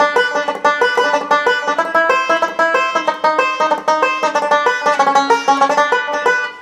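Irish reel The Moving Cloud played on a melodic instrument, a steady run of continuous treble ornaments driving the tune, bright, close and unaccompanied.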